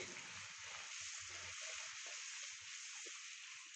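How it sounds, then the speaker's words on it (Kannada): A puri fries in hot oil, giving a steady, bright, continuous sizzle that stays loud and even throughout with no talk over it. "ಇವಾಗ ಒಂದು ಪೂರಿ ಒತ್ತಿರೋದನ್ನ ಬಿಡ್ತೀನಿ ಎಣ್ಣೆಗೆ ಈಗ ಮೇಲಿಂದ ಪ್ರೆಸ್ ಮಾಡಬೇಕು ಹೀಗೆ"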